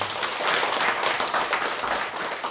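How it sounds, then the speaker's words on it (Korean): A church congregation claps together during a Sunday worship service, a dense, steady wash of hand claps at close range lasting a few seconds with no talking over it. "우리 다 같이 다시 한번 하나님 앞에 영광의 박수 올려드리겠습니다"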